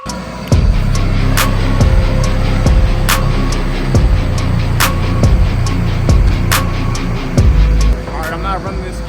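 A skid steer loader runs nearby at a concrete job, its engine steady and loud throughout, with repeated clanks and sharp metallic bangs as the machine works.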